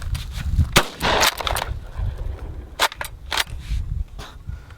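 A UTAS UTS-15 tactical shotgun fires shells outdoors, several loud sharp blasts spaced unevenly over a few seconds, with mechanical clacks of the action between shots.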